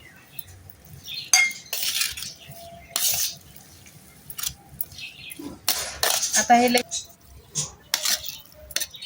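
Spiced pickle mixture of grated vegetable with masala, chili powder, turmeric, salt and cooled oil being spooned into a container, giving bursts of clinking cutlery and dish knocks with quiet pauses between, fairly close.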